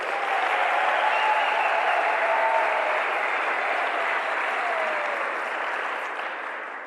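Steady, dense applause from a memorial lecture audience in a high school hall, holding full for several seconds before slowly tapering, with a faint voice calling out once in the crowd.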